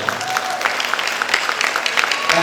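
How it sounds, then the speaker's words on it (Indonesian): An audience at an International Day of Persons with Disabilities 2023 gathering in Kediri claps continuously, a dense patter of many hands at moderate distance, with a faint voice underneath. "Tepuk tangan untuk kita."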